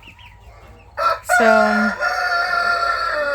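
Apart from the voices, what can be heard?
chickens clucking, broody hen and chicks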